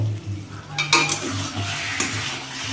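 Chicken kosha being stirred in a pan as the meat releases its juices, a soft steady sizzle with a few spatula scrapes and knocks, close and without talk.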